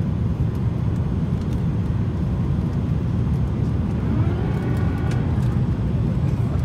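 Inside an airplane cabin shortly before landing, a steady, loud, low roar continues without a break, with faint sounds above it.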